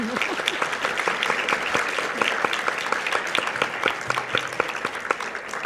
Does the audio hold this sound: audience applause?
yes